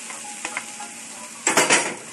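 Garlic frying in a pan, a soft steady sizzle with brief scraping stir sounds, then a louder burst of sizzling and stirring near the end.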